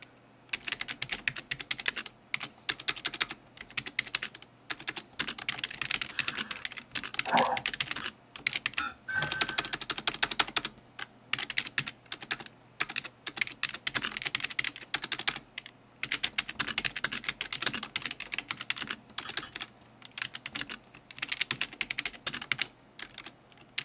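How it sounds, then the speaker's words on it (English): Typing on the keyboard of a 1998 Compaq Deskpro EP desktop computer running Windows 98 and Office 2000: steady, close clatter of key presses in quick bursts with brief pauses, continuing throughout with no talking. "let me type some stuff"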